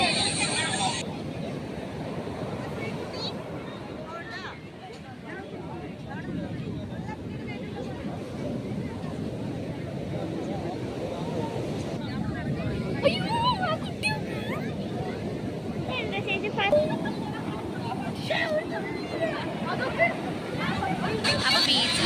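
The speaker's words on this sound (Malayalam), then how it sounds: "ഞങ്ങൾ വരുമ്പോഴേക്കും നല്ല വേവ്സ് വരുന്നുണ്ടായിരുന്നു." Surf and gusty wind at Alappuzha beach in Kerala, with rain threatening, form a steady broadband roar throughout, with faint crowd babble and scattered voices mixed in at a distance.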